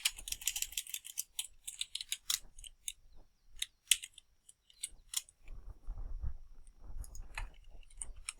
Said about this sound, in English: I'll just continue typing this out